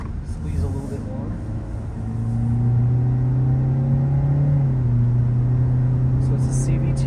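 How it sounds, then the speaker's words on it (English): A Kia Forte GT-Line with a CVT pulls hard from a steady rumble, its engine note climbing through simulated gear steps as it accelerates, loud and close from the cabin. "So it's a CVT simulating shifts."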